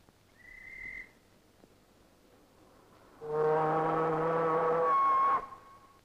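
A brief high whistle sounds at a dock lock, followed by a long, loud, horn-like blast lasting about two seconds, signalling escorting tugs guiding a liner.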